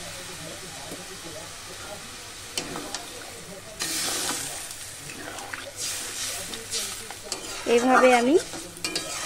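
Jhinge posto (ridge gourd in poppy seed paste) frying in oil in a pan after a little water is added, giving a soft steady sizzle with stirring scrapes, under a woman's speech.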